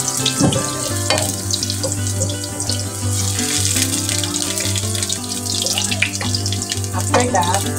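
Garlic fries in hot cooking oil with a steady crackling sizzle under a constant low hum. Faint clinks and stirring sounds come through close by.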